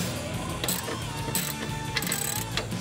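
A ratcheting wrench works loose the bolts on a Polaris Outlaw ATV swing arm, a steady metallic clicking ratchet running continuously with brief louder strokes, close up in a workshop.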